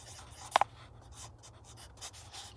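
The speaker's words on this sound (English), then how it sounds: "we're going to label our pot. So we can write the name" A marker writes a name label on a plastic cup for a tomato seedling, faint scratchy strokes with a couple of sharper squeaks near the start, quiet and close.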